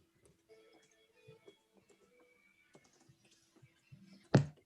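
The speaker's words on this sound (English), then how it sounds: "I just want to finish typing this" Light, irregular keystrokes on a computer keyboard during a town planning board meeting, soft scattered clicks at close range with a faint background hum, ending in one sharper louder clack.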